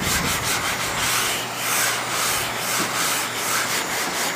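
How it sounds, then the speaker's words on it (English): Close, loud sanding of body filler on a panel with a block, rough gritty strokes in a steady back-and-forth rhythm, with no voices. "So I'm sanding these edges here."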